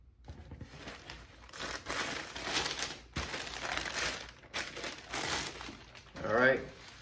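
Ocean-water-print wrapping paper with the Nike logo crinkling and rustling while unboxing Nike Dunk Low Retro SE 2 Rainbow Trout shoes, close and in uneven bursts as a voice talks over it.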